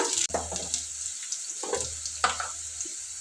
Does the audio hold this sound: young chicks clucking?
no